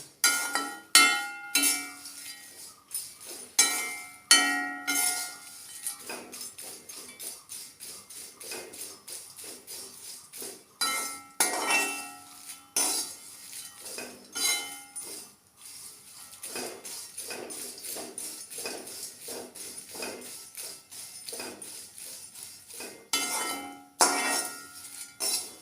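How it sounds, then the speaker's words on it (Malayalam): Dried shrimp roasting in a pan rattle under steady stirring, a long run of close, bright metallic clinks and scrapes in uneven rhythm with brief pauses between bursts. "ഏകദേശം ഒരു 5 മിനിറ്റോളം ഞാൻ വറുത്ത് കൊടുത്തിട്ടുണ്ട്."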